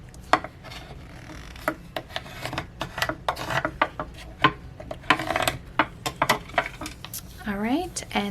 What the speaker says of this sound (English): we are also going to use that scraper tool.